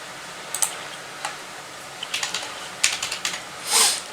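A ticker symbol being typed on a computer keyboard, a quick irregular run of crisp close keystrokes in small bursts with short pauses between them and no talk.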